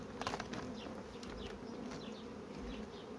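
Honeybees buzz steadily and close around a hive frame during a hive inspection, a continuous droning hum with individual bees flitting past, no voices.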